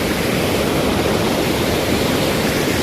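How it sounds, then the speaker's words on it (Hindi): Water from an overflowing canal pours over a small village waterfall, a loud, steady, broadband rush heard close and continuous with no speech. "यहाँ पे देखिए यहाँ झरना टाइप से हो रहा है।"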